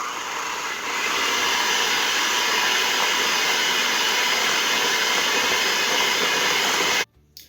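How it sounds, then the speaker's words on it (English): An electric mixer whirs steadily, beating egg whites with vanilla extract for cupcake batter, a loud continuous close hum that stops abruptly near the end. "we're going to mix these until they're well incorporated"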